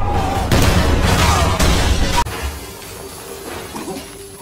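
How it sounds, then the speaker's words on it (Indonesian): A loud explosion in a movie scene set at a laboratory, heard as a roaring, crashing burst with heavy rumble that cuts off sharply, leaving a quieter ringing tail. "terjadilah ledakan"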